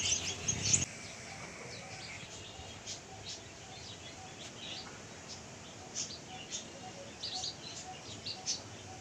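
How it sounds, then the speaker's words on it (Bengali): Small birds chirp faintly outdoors in the early morning, with scattered short tweets across a quiet background where pet pigeons are kept, after a brief louder rustle at the start. "আর পাখির কিচিরমিচির শব্দ"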